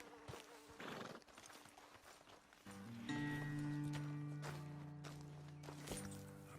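Horses in the Red Dead Redemption 2 video game, hooves clip-clopping and a horse whinnying close by, with buzzing flies and a steady droning tone underneath in the second half.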